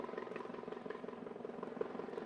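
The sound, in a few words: helicopter flying over to land at a hospital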